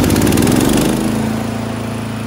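A remote operated rubber track slope mower (VTLM800) engine runs close by, a loud, rough throaty drone that eases slightly in pitch and settles into a steady idle.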